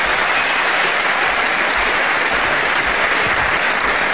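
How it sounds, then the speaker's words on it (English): Loud, sustained applause from a boxing crowd after a technical knockout in round four, dense steady clapping filling the whole stretch without voices. "a big round of applause for both these men, Bob Kirkwood and the winner, Catweazle."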